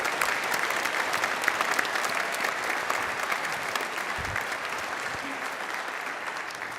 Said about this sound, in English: An extra round of applause for them.